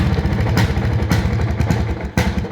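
Planeta 5 motorcycle idling up close: a continuous loud, throaty putter with a steady pulse and occasional small blips, and nobody speaking.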